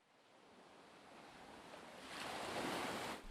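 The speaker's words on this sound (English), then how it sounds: "Waves roll onto the shore behind her as she stares directly at us." Waves roll in and break onto a beach shore, a steady broadband wash swelling louder toward the end as a larger wave surges in, with no voices present.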